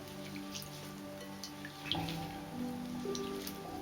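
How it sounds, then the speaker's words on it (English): Hands swishing and splashing through bath water in a tub, soft close-up sloshing and drips that grow livelier partway through, with no voice. "Now here's the fun part, getting your hands in it."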